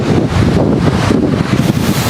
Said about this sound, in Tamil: என்னை தள்ளுது காத்து.